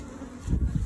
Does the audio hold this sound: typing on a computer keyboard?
no